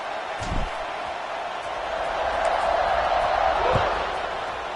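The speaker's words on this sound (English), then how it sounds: "They're set to kick it off, and this crowd now ready to get behind them." Crowd noise from a college football stadium in the NCAA 26 video game swells as a steady, broad roar before a kickoff against LSU, building slightly in the middle, with a couple of dull thuds standing out.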